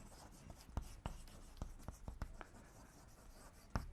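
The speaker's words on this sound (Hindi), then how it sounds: "तो हम डेफिनेशन लिखेंगे" A definition is written out during a Class 11 probability lesson: quiet, scratchy writing strokes in short irregular bursts with brief pauses between them.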